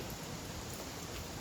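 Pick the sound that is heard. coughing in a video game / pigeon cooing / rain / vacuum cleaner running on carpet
rain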